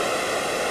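Spray from the Gavarnie waterfall during an abseil descent, a loud, dense, steady roar of rushing water filling the whole short moment, close and unbroken.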